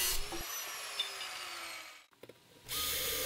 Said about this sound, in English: Then I drill several holes in a circular pattern at the rear of the forge.